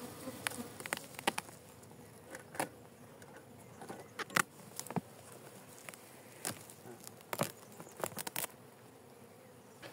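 Honeybees buzz steadily around an opened turquoise-blue hive holding Langstroth frames, a close, continuous drone broken by louder individual bees darting past the microphone.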